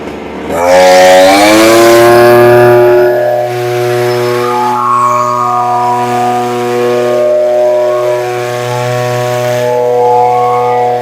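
A small two-stroke brush cutter engine, also used as a leaf blower, revs up loudly nearby on a farm, then settles into a steady, buzzing drone with slight speed fluctuations.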